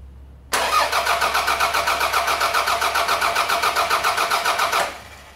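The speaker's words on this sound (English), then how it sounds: "Once we crank the engine over" Car engine cranking over on its starter motor during a starter circuit test: a loud, even run of rapid rhythmic chugs lasting about four seconds, then stopping without the engine catching.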